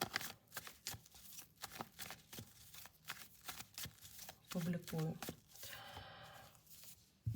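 Tarot cards riffled and shuffled in quick bursts close by, with a person speaking in between the shuffles.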